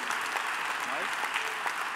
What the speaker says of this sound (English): give Michael a big applause